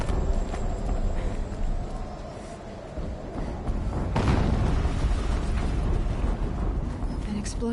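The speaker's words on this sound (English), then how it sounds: "An explosion." Explosions in the video game Horizon Zero Dawn: a sustained, loud rumbling din with a heavier boom around the midpoint, spread over the whole stretch.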